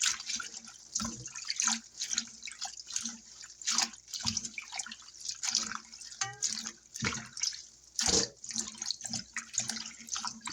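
Cold tap water running into a sink while collard greens are washed, with irregular splashes, drips and sloshing bursts throughout, fairly close.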